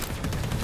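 Gunfire from a gun in Borderlands 3 crackles in a quick burst of loud, close shots, rapid and sharp over a fraction of a second.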